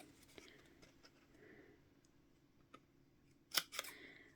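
Scissors snip through card for a DIY gift box gift card holder, faint soft cuts early on, then two sharp, close crunching snips near the end in a quiet room.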